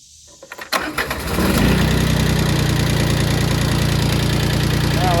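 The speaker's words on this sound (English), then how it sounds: "It'll probably start without the glow plugs, but I like to just give it a little help." A diesel engine cranks with a few uneven turns, catches, and settles into a loud, steady idle close by, with no talking over it.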